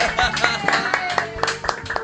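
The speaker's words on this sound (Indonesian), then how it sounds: "Wah, tepuk tangan untuk kita semua." A small group claps hands in a quick, uneven run of sharp claps, fairly close, with a musical tone underneath in an animated scene.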